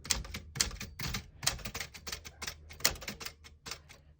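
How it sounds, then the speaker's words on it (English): A manual typewriter clatters close by, its keys striking in quick, uneven bursts of sharp metallic clacks with brief pauses between. "A typewriter."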